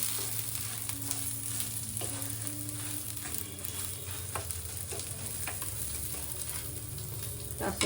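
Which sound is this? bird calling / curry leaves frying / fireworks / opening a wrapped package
curry leaves frying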